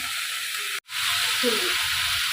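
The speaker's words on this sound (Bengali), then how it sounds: "কত সময়টা ভাজা হোক আমি মশলাটা কষিয়ে নিই" Ground cumin and coriander sizzle as they fry in a pan with potatoes, a steady hiss that cuts out briefly and then resumes, with faint low sounds underneath.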